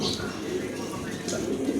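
Soft, low pigeon cooing rolls along steadily in the background, close and fairly quiet, with faint chirps above it.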